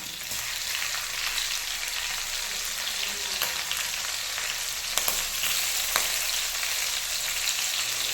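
Green chillies and garlic frying in ghee, giving a loud continuous sizzle that holds steady throughout, with a couple of small clicks near the end.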